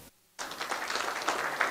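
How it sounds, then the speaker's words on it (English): A crowd applauds a guest introduced at a Nigerian political party event, a brief burst of dense clapping that starts abruptly after a short silence and holds steady, fairly close and loud. "Can we applaud him better?"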